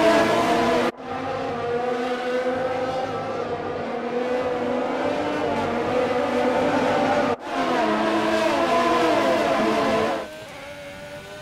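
Formula 1 car engine in F1 2020 screaming at high revs with steady harmonic whine as the rear briefly slides, brief gear-change dips breaking the continuous loud drone.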